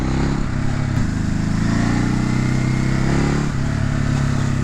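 A 2019 Ducati Hypermotard 950 motorcycle engine rumbles close and loud at low road speed, with quick throttle blips that lift the revs and then let them fall back.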